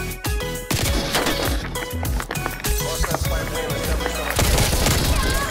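Call of Duty free-for-all match with loud, dense gunfire: rapid overlapping shots and bursts crack nonstop at close range for several seconds, with brief speech-like bits mixed in.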